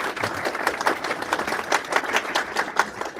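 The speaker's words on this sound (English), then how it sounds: "let's give another round of applause for Mr. 𝗵𝗫𝗂𝗧𝘂𝗍𝗶" An audience gives a round of applause, with dense, lively clapping that rises and falls in uneven bursts across the whole stretch, heard up close without speech.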